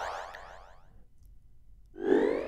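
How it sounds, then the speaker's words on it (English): Two short, bright synthetic chirps, one sweeping at the start and another after a brief silence, like cheerful game pickup blips. "Every time we grab a new cube, we get a different sound."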